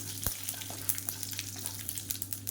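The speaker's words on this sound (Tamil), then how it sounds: "இப்போ கடுகு எல்லாமே நல்லா புரிய ஆரம்பிக்குது" Mustard seeds spluttering in hot ghee, a steady close sizzle broken by small irregular pops and crackles over a constant low hum.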